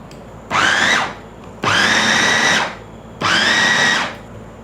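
Electric blender whirring in three loud bursts of about a second each, separated by short pauses, while blending a red bean, brown sugar flourless brownie batter with the lid closed.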